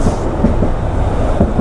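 A tram rolls along a city street in daytime traffic, its wheels clattering in a loud, steady rumble close by, with no voices.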